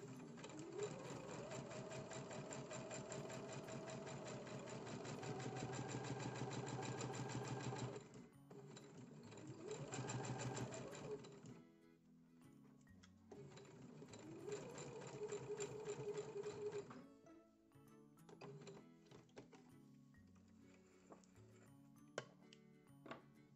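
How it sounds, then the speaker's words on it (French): A sewing machine runs close by, stitching a few points in place with a fast steady mechanical whir, pausing, then starting again in shorter bursts. "Je vais venir piquer dans le vide sur quelques points"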